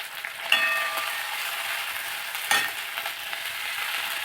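Ginger-garlic paste and spices fry in hot oil for khichuri with pui shak and masoor dal. The sizzle is steady and soft, with two sharp clinks of stirring.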